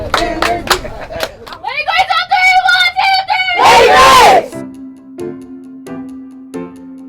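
A crowd of girls cheers and screams in loud bursts, rising into a sustained roar of shrill voices with clapping, then fading to scattered shouts and chatter.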